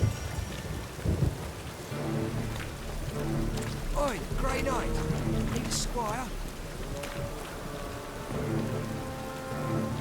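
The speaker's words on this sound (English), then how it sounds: "A storm, damn it." Steady rain and rumbling thunder of a storm in The Witcher 3: Wild Hunt, a constant wash with music and a voice speaking over it.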